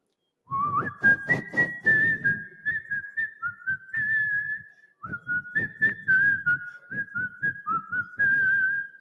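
Audience whistling along to a Fanaa film song at the Samwad 2025 event: a sustained, wavering melodic whistle carries the tune for about nine seconds over steady rhythmic beats, with no talking.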